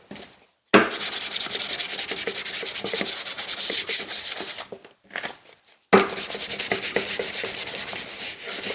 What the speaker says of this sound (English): I'm going to give it a light sanding